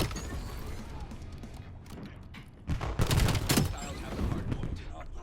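Shotgun hip-fire blasts in the Black Ops 7 multiplayer shooter, a few loud booming shots mid-way over steady game noise and a voice talking.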